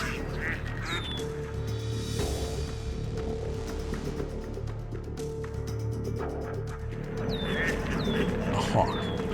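A duck quacks repeatedly near a pond, loud and close in a few bursts over steady outdoor background noise, with other animal calls mixed in.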